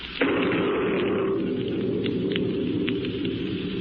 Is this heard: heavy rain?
yes